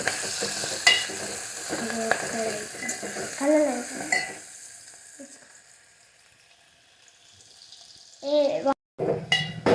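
Tomatoes sizzle as they are stirred in a frying pan after ginger paste and turmeric go in. Spoon scrapes and clinks come through clearly, with brief voices and a quieter stretch in the middle.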